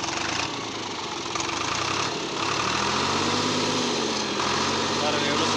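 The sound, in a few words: Deutz Fahr Agromaxx 50 tractor engine running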